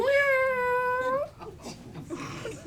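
A comedian imitates a cat, a long drawn-out nasal meow held for over a second, followed by brief murmuring and crowd noise from a live comedy show.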